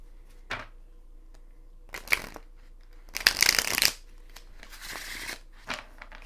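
Tarot cards are shuffled in several crisp riffling bursts of varying length, close up, with brief quiet gaps between them and no talking.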